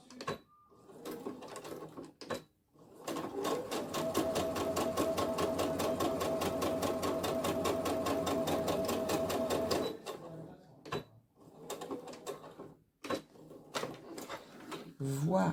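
Home sewing machine running a lengthened topstitch on a fabric elastic planner pouch, a steady loud mechanical whir lasting about seven seconds, with short start-stop bursts and handling before and after.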